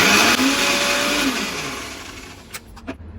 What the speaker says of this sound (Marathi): हे थोडंसं सुकं खोबरं घेतलंय मी. हे आपल्याला वाटून घ्यायचंय. थोडं अजून एक फिरवलं.